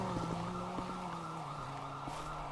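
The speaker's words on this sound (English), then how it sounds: "I hear the car like a little bit away." A car in the video game GTA heard a little way off, a steady engine drone with a faint rising whine over low game ambience, no talking.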